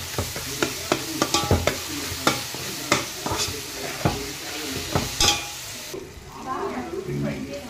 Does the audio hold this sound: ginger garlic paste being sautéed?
yes